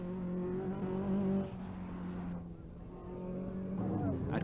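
Rothmans Porsche rally car on a forest stage at Comeragh Drive near Dungarvan, engine note steady then easing off as revs drop, with a commentator's voice over the top.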